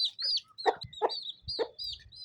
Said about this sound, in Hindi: दूसरी मुर्गी जिसके साथ 2 चूज़े हैं